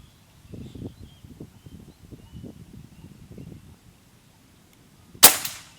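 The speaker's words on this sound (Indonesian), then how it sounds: "Kita mulai tembakan pertama." A single sharp air rifle shot cracks near the end, hitting a target, after a stretch of low, faint movement and rustling.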